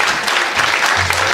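Loud, dense clapping from a crowd gathered at a Ram Katha, a continuous wash of many hands close by.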